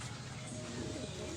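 Racing pigeon cooing at a loft in La Union, a soft low murmuring coo running steadily through the clip against a constant hum of background noise.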